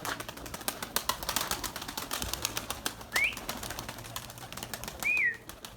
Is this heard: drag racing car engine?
no